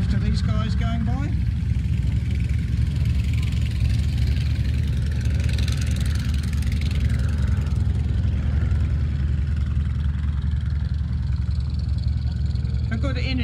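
Propeller aircraft engines drone steadily and loudly throughout at an airshow, with aerobatic planes flying past and a faint swell midway.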